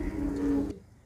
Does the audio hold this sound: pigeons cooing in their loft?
yes